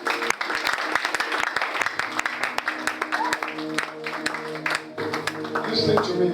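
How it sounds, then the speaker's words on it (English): A church congregation on its feet gives a clap offering to Jesus, rapid scattered handclaps packed close together over music and voices, loud and continuous. "Give Jesus a beautiful clap offering."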